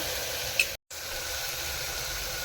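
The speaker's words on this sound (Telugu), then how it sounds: "ఇందులో ఉల్లిపాయలు కూడా వేసుకొని బాగా ఫ్రై చేసుకోవాలి" Sliced onions and ginger fry in a pan, a steady close sizzle and hiss that breaks off for a split second midway and then carries on evenly.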